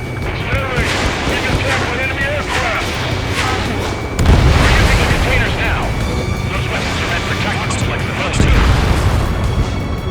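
Targets explode in the Ace Combat 7 flight game: loud, heavy booms land over a constant roaring jet and engine wash, with two especially deep blasts spaced a few seconds apart.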